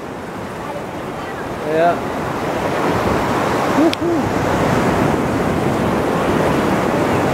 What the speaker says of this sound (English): These waves are nothing, Mom.